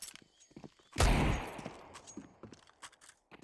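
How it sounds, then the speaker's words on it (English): A single loud Desert Eagle pistol shot in Counter-Strike on the Ancient map, sharp and close, followed by a decaying tail and scattered faint footsteps and game sounds. "Oh, but the Deagle misses."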